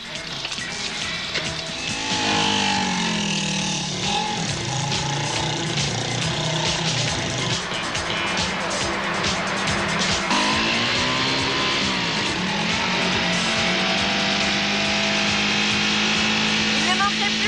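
Motorcycle engines rev and rise and fall in pitch as the bikes pull away in an action spy series scene, the drone running loud and continuous over other background sound.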